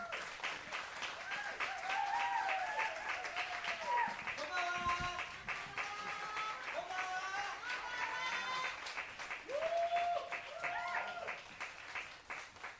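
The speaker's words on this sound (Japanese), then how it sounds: "皆さん大きな拍手でお迎えください" Audience in a live music bar applauds to welcome a vocalist on stage, sustained clapping throughout while an announcer speaks over it and tonal music sounds in the background.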